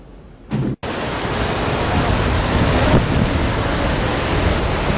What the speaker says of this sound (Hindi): पानी की प्रचंड धारा में एक इंसान फंसा है।